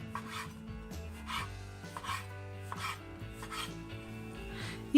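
A knife cutting white bread into cubes on a board, quiet rasping strokes repeating in an uneven rhythm over a faint background hum.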